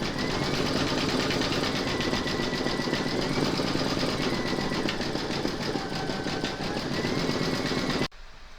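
An embroidery machine satin stitches a calla lily coaster design with a fast, steady mechanical whirring and rapid rhythmic needle chatter that holds constant for about eight seconds before stopping abruptly.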